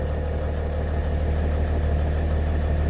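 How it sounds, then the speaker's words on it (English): A Winnebago Navion's engine idles steadily after starting, a continuous low rumble heard close and fairly loud, with no voices over it. "All right, we started the engine,"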